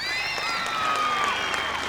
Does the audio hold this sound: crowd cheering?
yes